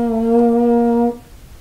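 A baritone euphonium with a stuck valve sounds one steady, buzzy brass note for about a second before cutting off, close and fairly loud, with no talking.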